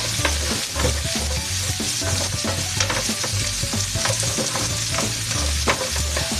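Onion sautéing in a pan for chicken with pineapple and green peas, a loud continuous sizzle with rapid stirring and spatula scrapes, close and without talk.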